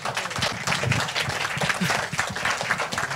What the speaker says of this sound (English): Okay, a big round of applause to each one of us.